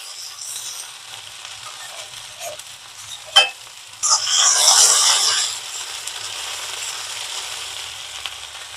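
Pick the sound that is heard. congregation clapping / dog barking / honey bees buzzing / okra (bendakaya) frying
okra (bendakaya) frying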